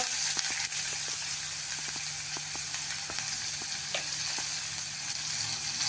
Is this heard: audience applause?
no